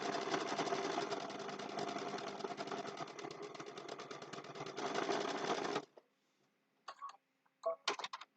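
A sewing machine stitches a snowman-face mug rug in a fast, steady run of rapid needle strokes, close and clear, with a short pause. Then comes a brief quiet gap and a few short bursts of stitching.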